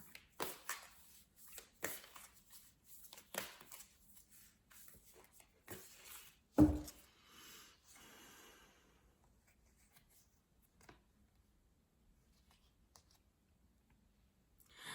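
Oracle cards are shuffled in a quiet room, giving repeated soft papery riffles and taps with a sharper slap midway, close and faint, with no talking.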